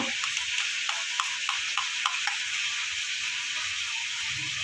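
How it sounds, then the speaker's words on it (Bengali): Amudi fish sizzles steadily in hot oil in a pan, a continuous hiss broken by soft, regular clinks and stirs at even intervals, with no talking. "এদিকে ভাজা হতে থাক"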